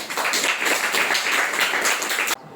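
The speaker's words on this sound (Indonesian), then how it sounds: "Tepuk tangan buat teman-teman kami." Classroom applause from students, a brisk burst of many hands clapping together that cuts off abruptly near the end, leaving quiet room tone.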